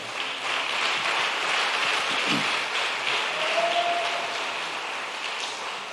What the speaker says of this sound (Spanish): Den la aplauso.